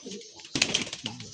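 Madrasi highflyer pigeons cooing at close range, a low soft coo, a brief flurry of rustling and flapping, then another coo; faint and short.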